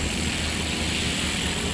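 A Walkera V400D02 six-channel flybarless RC helicopter flies outdoors on a breezy day, its rotor and motor giving a steady, even whirring drone that fills the whole short stretch.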